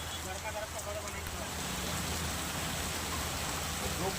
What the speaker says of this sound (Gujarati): વડોદરા શહેરમાં ધોધમાર વરસાદ રાત્રિથી જ પડ્યો